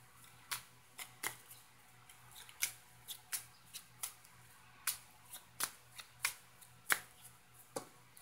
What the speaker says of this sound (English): So I'm going to get two cards.